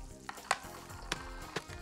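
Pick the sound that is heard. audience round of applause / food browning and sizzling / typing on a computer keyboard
food browning and sizzling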